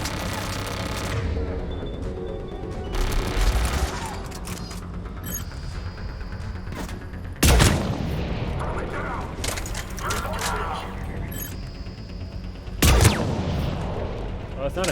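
Loud, sharp gunfire bursts from the Mass Effect 3 video game, with two strong shots standing out over a constant, busy bed of combat noise and a voice talking.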